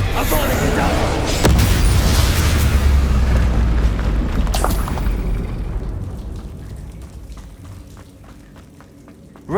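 Explosion spells Bombarda and Confringo detonate in the Hogwarts Legacy video game, a loud deep boom with a sharp burst near the start and another mid-clip, rumbling and fading away under speech.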